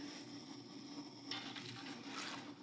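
Pickling liquid at a strong rolling boil in a pot on a kitchen stove, a close, steady bubbling and sizzling hiss with no talking.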